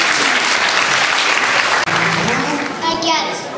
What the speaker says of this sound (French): c'était une aventure de Guignol qu'on applaudit très fort.